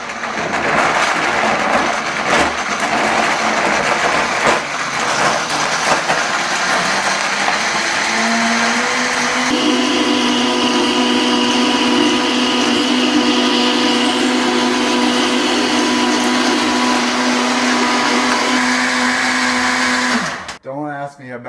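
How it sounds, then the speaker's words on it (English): A Vitamix blender whirs through a green smoothie, starting rough and chunky, then climbing to a loud, steady high-speed whine before cutting off abruptly at the end. "It's a blender. It does a lot of things. I've only ever used it for smoothies."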